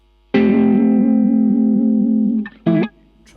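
An electric guitar through a Crazy Tube Circuits Killer V vibrato and overdrive pedal: one loud sustained overdriven chord pulsing with regular vibrato for about two seconds, then a short second stab and a faint tail.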